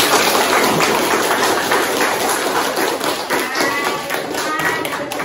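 A class claps for a student group after its presentation: dense, steady applause from many hands fills the whole stretch at close range, with a faint voice under it.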